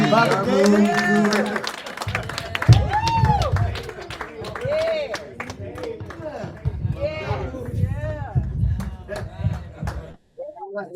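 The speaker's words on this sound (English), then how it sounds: "let's give another round of applause to Baba Damu and Baba Minister Sydney" Congregation applauding and cheering at an African church service, loud, dense clapping close by with voices calling out over it, tapering off before a brief pause near the end.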